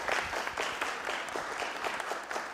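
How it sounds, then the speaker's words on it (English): Audience at a city council meeting applauding a group of students, many hands clapping in a brisk, even patter at a moderate distance, softening slightly toward the end. "Let's give a huge round of applause to these kids up here."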